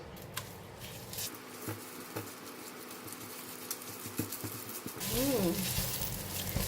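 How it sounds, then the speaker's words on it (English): Shrimp and shallot paste frying in about two tablespoons of cooking oil, a close, steady sizzle and crackle that swells louder toward the end, with scattered small clicks and taps from the pan. "Normally we fry the paste like this"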